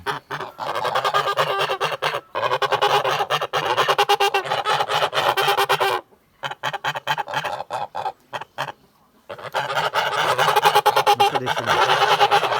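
Kholmogory geese honk loudly and continuously in a noisy flock, the chorus broken by a few short pauses.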